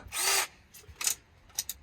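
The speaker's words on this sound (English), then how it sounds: "Jake thought to bring the drill" A cordless power drill whirs in one short, close burst and is followed by a few brief mechanical taps and whirs while a van drawer is being fixed.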